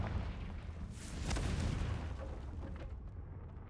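Confringo fire blast spell cast in the Hogwarts Legacy game, a dull booming burst that swells around the middle and rumbles off, fairly faint and alone.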